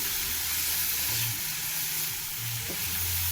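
Spices with turmeric, salt and chilli cook dry in a pan, producing a constant close sizzle with occasional low scraping from stirring.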